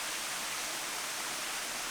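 Cancer Falls, a waterfall on Siquijor, gives a steady, even rush of falling water, heard at moderate distance with no voices.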